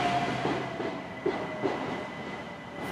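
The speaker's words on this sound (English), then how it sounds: "another train arrived. So there is a train station in Gunnersbury" A train pulling into Gunnersbury station in west London, a steady rumble of wheels on rail with a couple of soft clacks and a faint high whine, heard from the platform with no talking.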